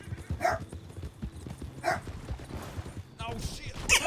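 Horse hooves gallop in the video game RedM (Red Dead), a rhythmic run of clip-clopping beats beneath a voice talking.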